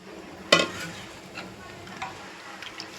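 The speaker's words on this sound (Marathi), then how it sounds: "आता आपण येळवणी ओतून घेऊया त्याच्यात" Liquid goes into a pan of roasted spice paste and masalas for a Maharashtrian amti, opening with a sharp splash and hiss, then soft sizzling and a few light stirring scrapes, close by with no talking.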